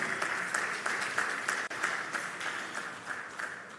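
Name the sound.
audience applause at a conference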